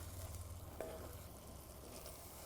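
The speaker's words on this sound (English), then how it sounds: "You want to turn your heat down a little bit once you've gotten things sizzling in there." Quiet, steady sizzling of butter browning in a pan, with a soft stirring clink partway through.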